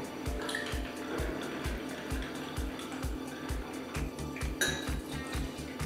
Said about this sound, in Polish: Staramy się wszystko rozmieszać, aby uzyskać syrop.